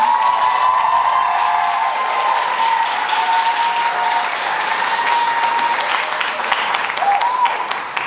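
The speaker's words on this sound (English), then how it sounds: "Can we have another big round of applause for all the performers?" Audience at the Navarasa 2022 show applauds the performers with dense, continuous clapping and a few cheers, with a faint voice carrying through the applause.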